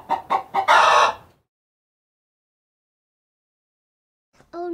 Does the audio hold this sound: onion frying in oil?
no